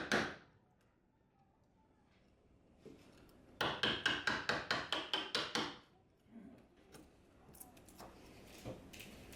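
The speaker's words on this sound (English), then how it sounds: "Remove accumulated wood shavings by positioning the chisel vertically and cutting through." A Japanese chisel cuts vertically through wood, struck in a quick run of about ten sharp, close taps, with a few isolated knocks before and after in a quiet room.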